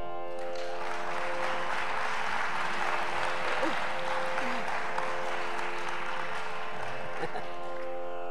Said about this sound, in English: Give her a big claps.